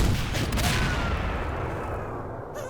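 An RPG explosion in Garry's Mod booms close and loud, then rumbles and decays over a couple of seconds.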